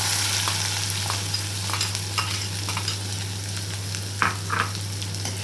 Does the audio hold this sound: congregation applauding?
no